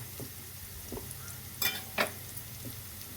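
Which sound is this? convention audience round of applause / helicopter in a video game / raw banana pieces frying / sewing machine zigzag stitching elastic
raw banana pieces frying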